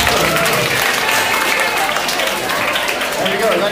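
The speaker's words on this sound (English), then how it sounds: "Give that man a huge round of applause." An audience at a science and astronomy presentation breaks into a loud, sustained round of applause, with thick, continuous clapping that fills every moment and some crowd noise underneath.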